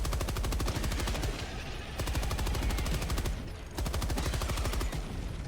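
A heavy automatic weapon in Helldivers 2 fires long, rapid sustained bursts with steady rhythmic reports, loud and close, pausing briefly twice between strings of shots.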